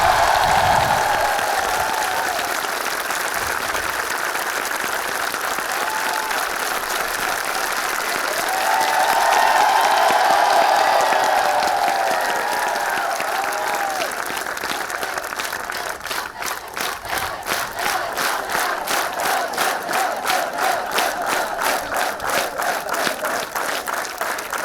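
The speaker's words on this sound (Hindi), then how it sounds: "सब लोग तो जोरदार ताली बजाओ।" Audience at a NIMCET 2023 result celebration applauds loudly and steadily for the whole stretch, a dense wash of many hands clapping with some crowd noise, swelling midway and turning into more rhythmic, pulsing claps near the end.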